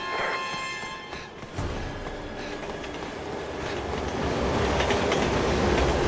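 A train rumbles past in the video game Resident Evil 6, a steady mechanical rolling noise with faint rail clatter that swells gradually louder over several seconds.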